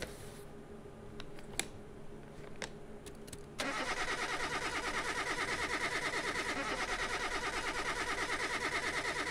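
A Mazda RX-7 rotary engine in Car Mechanic Simulator 2021 cranks and fires partway through, after a few quiet clicks, then settles into a loud, steady, even idle.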